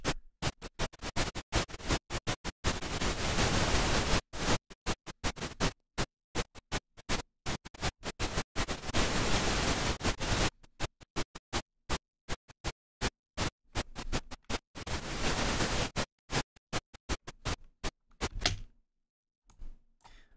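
Noisebud DynaRoute plugin in noise mode sends rapid, choppy bursts of broadband noise that stutter on and off, with several longer sustained noisy stretches between the gated patterns, before dropping to near silence at the end.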